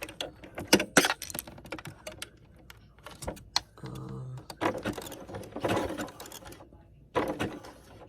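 Sewing machine stitching fabric around a curve, its motor running in short bursts with pauses between as the fabric is turned with the needle left down; close and moderately loud, no talking.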